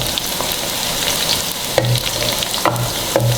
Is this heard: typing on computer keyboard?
no